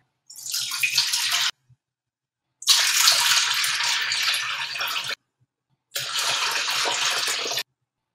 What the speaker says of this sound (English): I'm going to go ahead and fill it up with that water